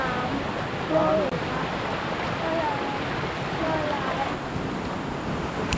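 A strong river current rushes in a continuous broadband roar outdoors in the countryside, steady and fairly loud with some wind buffeting mixed in.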